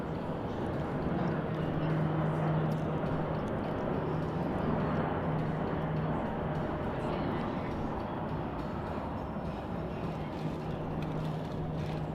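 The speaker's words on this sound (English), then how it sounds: "there's a CRJ 900 Mesa branded, probably for United Express, taking off" A Mesa-operated CRJ 900 regional jet in United Express colors takes off from a large international airport, its broad engine roar steady and fairly loud throughout, with a faint low hum underneath.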